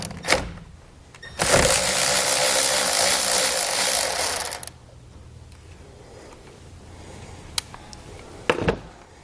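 Socket wrench turning a 10mm bolt on a battery terminal of a 2011 Kia Sportage during trailer wiring installation, heard as a loud sustained mechanical whir lasting about three seconds, followed by a few faint clicks.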